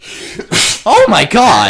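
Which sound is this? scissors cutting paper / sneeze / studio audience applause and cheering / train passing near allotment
sneeze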